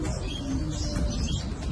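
Caged birds at an Indonesian bird market, including parrots and cockatoos, give off a busy, continuous mix of cooing and chirping calls over steady low background noise.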